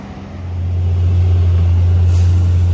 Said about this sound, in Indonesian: Ah, ada truknya tuh.